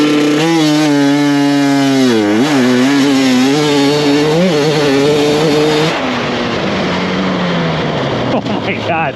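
A 2024 GasGas MC250 dirt bike screams loud and close as it accelerates hard in third gear off a holeshot start, its engine pitch climbing in rising sweeps before easing to a rougher drone.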